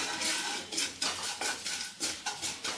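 Poppy seeds dry-roasting in a pan over medium gas, stirred with a metal spoon that scrapes and clinks in a steady repeated rhythm, close and fairly loud with no voices.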